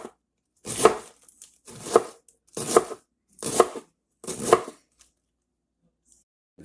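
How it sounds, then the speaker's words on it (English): A knife chops buffalo chicken into thin pieces on a cutting board, five evenly spaced solid chops close and clear with silence between them. "Go ahead and cut them in manageable portions."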